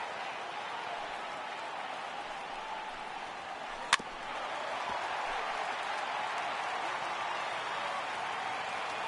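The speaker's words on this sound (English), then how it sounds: "Crowd gets up for the 3-2." A baseball video game crowd roars in a steady, dense wash of cheering that swells slightly after a single sharp click partway through.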